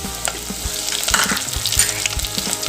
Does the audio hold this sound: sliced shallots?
yes